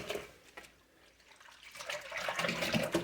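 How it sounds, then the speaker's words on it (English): A skein of yarn is pushed down into a basin of water and lifted back out, giving soft sloshing and trickling splashes that build toward the end, close and fairly quiet. "Push it into the water and pull it out."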